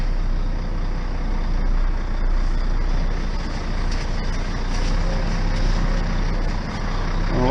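A tractor's engine drones steadily and loudly up close while shunting a trailer near a barn, a continuous low rumble with mechanical rattles throughout.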